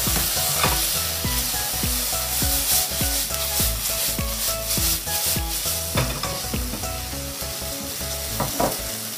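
Onions frying in a pan for kimchi pork, a loud continuous sizzle near at hand, broken by regular scraping stirs from a utensil.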